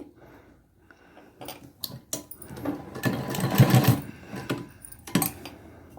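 A sewing machine stitches invisible piping around a curved neckline in short, slow bursts of close mechanical clatter, stopping and starting with quiet pauses between runs.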